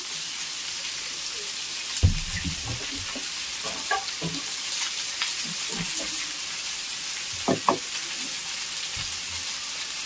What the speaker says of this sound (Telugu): మనం తురిమి పెట్టుకున్న క్యారెట్ ఇవన్నీ వేసుకొని కాస్త వేపుకుందాం.